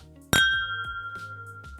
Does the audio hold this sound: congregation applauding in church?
no